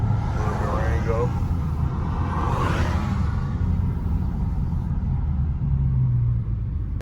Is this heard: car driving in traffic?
yes